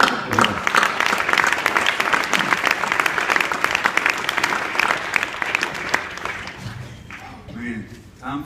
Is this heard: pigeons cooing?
no